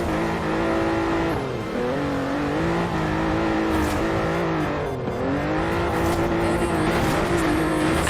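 A car engine in Forza Horizon 4 drones loudly and steadily through an e-brake drift, its pitch rising and dipping as the throttle works, with some tyre noise mixed in.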